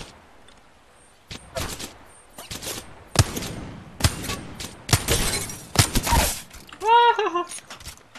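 Incoming gunfire strikes the player in the battle royale game Apex Legends, a string of loud, sharp crackling bursts and impacts arriving in irregular clusters, ending with a ringing, warbling tone.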